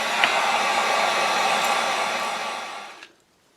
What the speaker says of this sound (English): before we do that, definitely the heat gun